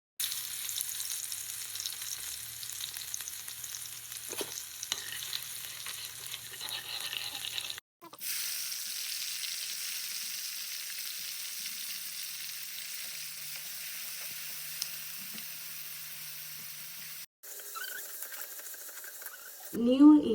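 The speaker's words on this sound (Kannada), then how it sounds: "ಸೊ ನಾನು ಇವಾಗ ಬೆಳ್ಳುಳ್ಳಿ ಹಾಕ್ತಾಯಿದ್ದೀನಿ." Garlic fries in hot oil in a pan for tomato gojju, a steady, bright sizzle that crackles on for long stretches with a few brief breaks and some stirring, and no voices over it.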